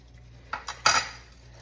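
A spoon clinks and scrapes against a pot of hot honey warming on low heat, with three distinct metallic knocks in quick succession, the last one longest, close and fairly quiet.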